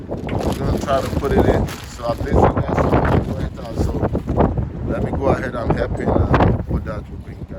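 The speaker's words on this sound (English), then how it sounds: "So I apologize for the wind, it's a little windy." Someone talks steadily outdoors while gusty wind buffets the microphone, a low rumbling roar rising and falling beneath his voice.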